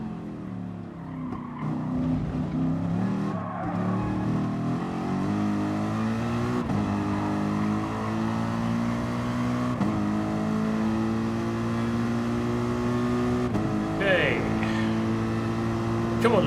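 A race car engine in Gran Turismo Sport hums and revs steadily at high pitch, rising and dropping through gear changes for sixteen seconds while someone talks over it.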